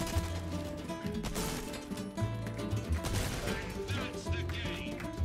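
Repeated gunfire at a shooting range in the video game Resident Evil 4 Remake, sharp shots going off over a busy, steady game soundtrack with no pauses.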